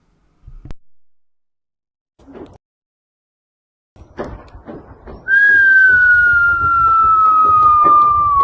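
A whistle blown in war footage from Mariupol during the Russian invasion of Ukraine: after some brief faint noises, a loud sustained whistle tone starts partway through and holds steady to the end, gently falling in pitch.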